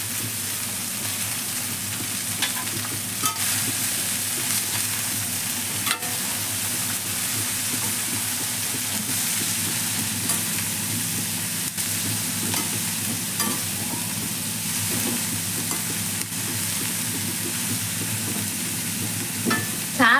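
Capsicum, cabbage and carrot frying in a pan for a simple cabbage sambharu, with a steady close sizzle and occasional scraping stirs throughout, no talking.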